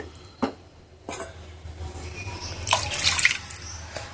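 Warm water is poured into a simmering curry in a cooking pot, a splashing pour with a couple of short bursts before a louder stream near the end, close by and without talk.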